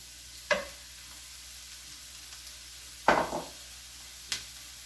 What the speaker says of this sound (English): Okay, now we're going to add our beef.